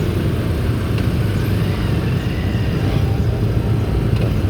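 Road traffic on Bagumbong Road, North Caloocan, near a school: a dense, steady rumble of idling and passing cars and motorcycles, close and continuous, without talk.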